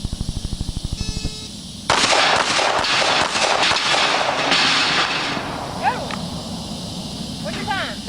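Gunfire on a competitive shooting stage at Clark Custom Guns: a rapid string of close, loud sharp shots in the first seconds, followed by sustained crowd noise and chatter with a few later cracks.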